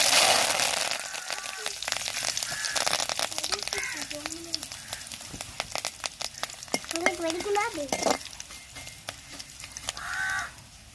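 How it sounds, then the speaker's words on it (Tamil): Mustard seeds, dried chillies and curry leaves fry in hot oil in a pan, giving a steady crackling sizzle with sharp pops, while voices talk and crows caw in the background. "சட்டி வந்துருச்சு எண்ணெய் ஊற்றிக்கிறோம் வச்சு கடுவு போட்டுக்கணும் வத்தலும் கருவேப்பிலையும் போட்டுக்கணும்"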